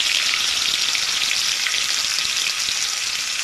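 Cumin seeds, curry leaves and grated garlic fry in hot oil with a loud, dense, continuous sizzle heard up close, with no voices.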